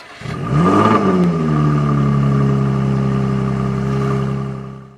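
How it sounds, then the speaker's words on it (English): A V6 sports car's exhaust note swells in a quick rev, then settles into a steady, loud, close droning hum with a clear low-pitched tone for several seconds. "You can also hear the fantastic exhaust note."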